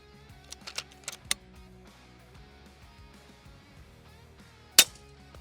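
An FX Impact M4 air rifle fires with a brief, sharp crack amid faint clicks and handling noise in a quiet outdoor setting during a long-range hunt.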